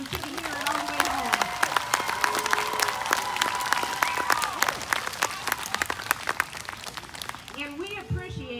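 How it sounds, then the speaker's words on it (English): School assembly crowd applauding to honor a student's Jump Rope for Heart fundraising, sustained loud clapping with some cheering over several seconds while voices talk and call out beneath it. "let's give her a big round of applause and she can hear it all the way home"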